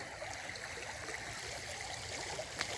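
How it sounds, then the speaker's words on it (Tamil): Rain runoff pours into a village pond, a soft, continuous rush and trickle of water heard from nearby without any voices. "தண்ணியோட வேகத்தை பாருங்கள் எவ்வளோ தண்ணி வருதுன்னு பாருங்கள்"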